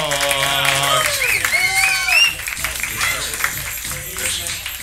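A comedy roast battle audience claps and cheers for a comedian, with crowd noise building under a host's loud, sung-out introduction.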